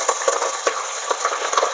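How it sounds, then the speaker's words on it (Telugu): Four green chillies frying in hot oil for a country chicken curry give a close, crackling sizzle, with small pops and a stirring clatter scattered throughout. "నూనె వేడైంది కదా, పచ్చిమిర్చి ఒక 4 వేసుకున్నాము."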